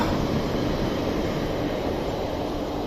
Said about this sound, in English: those trains just come past. Thundering past at 3 in the morning.